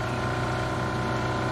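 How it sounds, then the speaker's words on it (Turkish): A steady motorboat engine in PUBG drones loudly and continuously as the boat approaches, a constant mechanical hum with no voices over it. "bu adamlar tekneyle geliyor"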